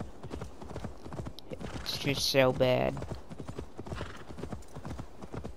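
Horse hooves clip-clop steadily in the video game Assassin's Creed Valhalla, a rhythmic trot mixed with a brief whinny in the middle, while someone talks over it throughout.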